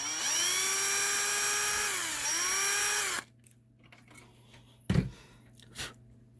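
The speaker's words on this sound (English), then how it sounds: "This one I may have needed the drill." Power drill drilling out a motherboard capacitor leg, whining loud and steady for about three seconds with a brief dip in pitch, then stopping, followed by quiet handling clicks and a couple of soft knocks.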